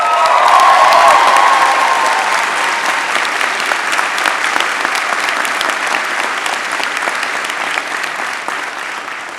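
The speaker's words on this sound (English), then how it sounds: "Professor Kimiotek, please stand and get another round of applause." Commencement audience at a university undergraduate ceremony applauding, loud sustained clapping throughout that swells at the start and then fades gradually, with a few faint cheers mixed in.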